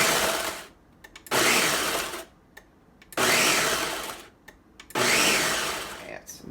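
A food processor pulses butter into a no-bake cheesecake crust: three loud whirring bursts, each a second or more long, with short quiet gaps between them.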